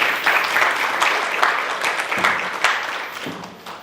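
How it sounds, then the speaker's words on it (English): Audience at an installation ceremony for a Korean-American Democratic association giving a round of applause, a full, steady wash of clapping that tapers slightly toward the end. "Please give him a big round of applause."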